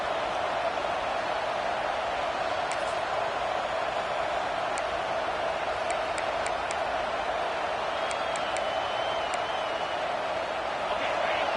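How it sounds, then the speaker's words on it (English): A stadium crowd in a South Carolina vs Missouri college football video game (CFB 26) roars in a steady, dense wash of noise, with faint whistles rising above it throughout. "Listen to this crowd just shaking the girders of this place, trying to help their defense."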